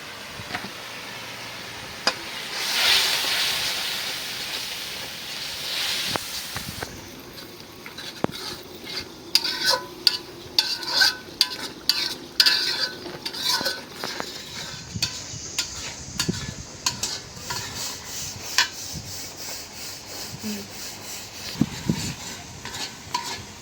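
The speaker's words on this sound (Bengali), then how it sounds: "মশলাটা ভালো করে কষাই নিলাম" Chili powder and coriander powder stir-fried in a pan with a spatula, steady scraping and stirring strokes over a soft sizzle, with sharper clinks of utensil against metal partway through; no voices.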